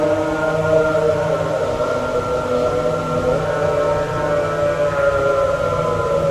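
An Islamic call to prayer from a mosque carries steadily over a loudspeaker, sustained wavering tones droning on continuously with a slight hiss, no other voices.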